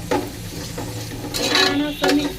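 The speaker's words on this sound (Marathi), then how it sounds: "इथे मी गोडा मसाला घेतलेला आहे एक चमचा तो घालून घेते" A spoon stirs goda masala spice into rice frying in a pan for masale bhat, scraping and clinking gently over a soft sizzle, close by.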